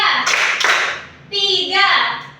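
Children in an Indonesian classroom clap a counted pattern, a few sharp claps and slaps close by, mixed with young voices talking and calling out between them.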